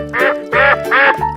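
Three loud, close duck quacks in a steady rhythm, each a short nasal honk with brief gaps between, as in a children's cartoon.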